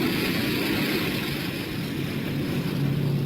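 Small propeller aircraft taking off at night, a steady loud engine drone with a low rumble holding throughout, no talk over it.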